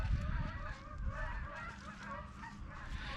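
Geese honk repeatedly in a noisy chorus, several birds calling over one another close by, with no pauses.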